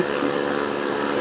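Steady roaring wind rush fills the whole moment on a motorcycle at about 60 km/h, heard through a Bluetooth headset on a half-face helmet, broad and continuous with no talk over it.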